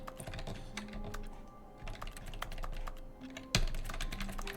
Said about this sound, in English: me pressing the keyboard makes a keyboard sound